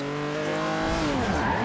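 A 2011 Lotus Evora S drifts in Forza Horizon 2, its engine droning loud and close while the tires squeal. The engine pitch holds steady, then bends and wavers as the squeal rises near the end.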